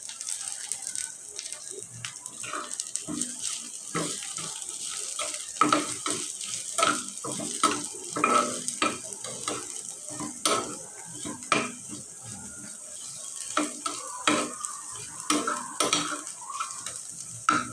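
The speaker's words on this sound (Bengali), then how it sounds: "পেঁয়াজটা আমার ভাজা হয়ে গেছে," Chopped onions sizzle and fry in a pan for an eggplant bharta, with frequent scraping stirs of a spatula or spoon against the metal, steady and close with no talking.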